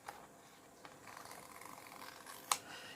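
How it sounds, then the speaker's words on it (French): A single sharp snip of large scissors cutting white paper borders rings out near the end, over a quiet background with faint rustling. "Je vais prendre mes gros ciseaux spéciaux."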